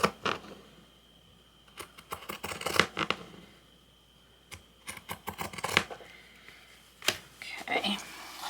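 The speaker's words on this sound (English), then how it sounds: "I'm going to use my pinking shears so it doesn't fray out" Pinking shears snip through fabric beside a maker's label, a series of crisp, close cutting bursts in irregular clusters with quiet pauses between them.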